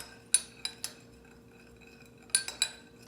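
A spoon stirring pink food colouring into water for a homemade lava lamp, giving a few light metallic clinks against the container, quiet and sparse with pauses between taps.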